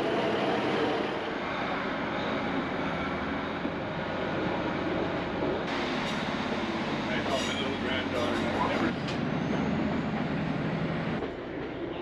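Train 263 on the Looe Valley branch line rolls steadily around a bend, with a continuous rumble and wheel noise heard from on board, plus occasional squeals and rattles. A voice talks over it.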